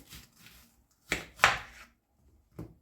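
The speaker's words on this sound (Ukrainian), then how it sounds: "Для начинки нарізаю цибулю." A knife chops onion on a board for potato patty filling, with a few soft scrapes followed by two louder, close cuts and one last chop after a pause.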